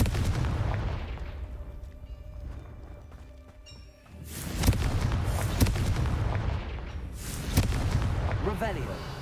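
Fire explosion spells in the video game Hogwarts Legacy, heavy booming blasts that burst out several times among rumbling game effects and clatter, loud and close.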